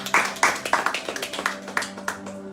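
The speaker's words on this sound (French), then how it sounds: "Acclamons le Seigneur notre Dieu." A church congregation claps in acclaim of the Lord, sharp hand claps in a loose, irregular rhythm of about a dozen strikes, moderately close, with a steady hum beneath.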